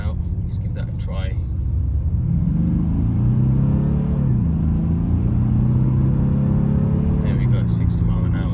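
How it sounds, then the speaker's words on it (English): A 2016 Maserati Ghibli with a 3.0L V6 diesel engine and automatic gearbox accelerates in sport mode: a deep, loud, grunty rumble rises in pitch through the gears, with a voice talking over it. "Now I want to put the car into sport mode, and that's when the valves open up as well, and it sounds very grunty and very aggressive."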